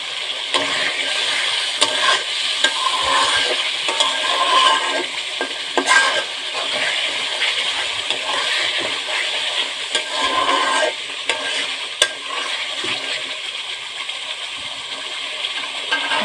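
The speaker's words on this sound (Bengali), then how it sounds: "আগে থেকে ভেজা রাখা আলুগুলো দিয়ে দিচ্ছি" Steady sizzling and frying of soaked potato pieces in a hot, spiced pan, broken by occasional stirring clatter, with no voices.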